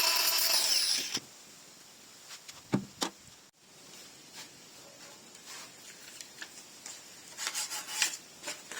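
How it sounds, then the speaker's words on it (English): A rough edge is being filed off a trimmed fuel hose during a fuel pump install: a dry, scratchy rasping that comes in short irregular strokes. It is loud at first, then quieter scrapes and rubs follow, with no voices. "just taking off these rough edges after we've trimmed it back"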